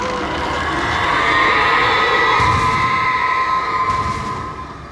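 Drawn-out, wailing screams in the Alan Wake video game, several overlapping high shrieking voices rising and falling, loud and sustained before fading at the end.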